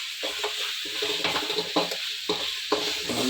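Chicken with curry leaves sautéing and being stirred in a pan for pepper chicken, with a steady sizzle broken by repeated scraping stir strokes, close and alone.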